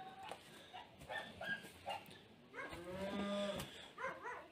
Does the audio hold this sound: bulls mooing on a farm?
yes